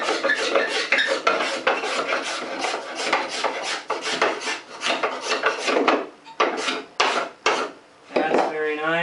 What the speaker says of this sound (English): Try the scraper.